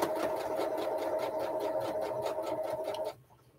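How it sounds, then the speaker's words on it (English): A sewing machine runs steadily at close range, giving a fast, even mechanical whir with a rhythmic needle clatter for about three seconds before it stops abruptly. "is my sewing machine too loud?"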